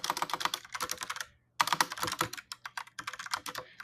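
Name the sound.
typing a tweet on a computer keyboard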